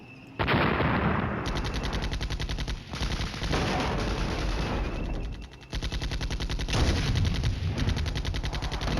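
Gunfire in the wargame Flashpoint Campaigns: Red Storm, loud sustained machine-gun bursts and rapid fire running in long stretches with brief gaps, continuous and close, no voices.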